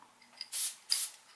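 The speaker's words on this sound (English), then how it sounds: "Spray glue" Spray glue from an aerosol can, applied to a skull for a Halloween skeleton, gives two short close hissing bursts, each about a third of a second, with faint scissor-like clicks just before.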